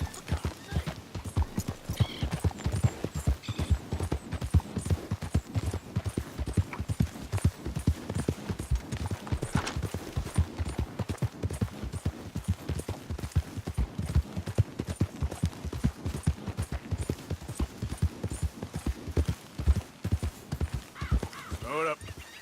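In the game Red Dead Redemption 2, a horse's hooves clop in a fast, continuous galloping rhythm close up, with an occasional whinny and some voices over the hoofbeats.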